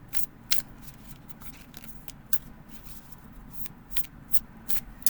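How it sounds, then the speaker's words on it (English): A tarot deck is shuffled overhand in quiet, repeated crisp riffles of cards falling between the hands, close and soft in a hushed room. "so you can shuffle that way,"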